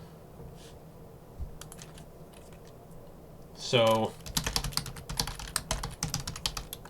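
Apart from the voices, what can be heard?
typing on a computer keyboard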